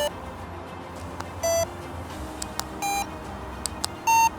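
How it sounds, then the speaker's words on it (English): Three short electronic beep sequences from a DNSYS X1 hiking exoskeleton as it switches modes, each a brief bright tone at a different pitch, spaced over a few seconds against quiet background, no talk. "One complaint though is how the X1 beeps when switched between different modes."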